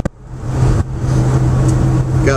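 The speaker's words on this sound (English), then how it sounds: "Oh yeah, good old truck." An old truck engine idles steadily with a low, rumbling hum, close and fairly loud, with a brief dip near the start before the running drone resumes.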